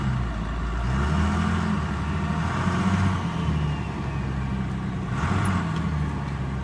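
A compound-turbo 12-valve Cummins truck engine running on a dyno, a heavy diesel throbbing right off idle and pulsing in low rhythmic surges, close and loud with no talking.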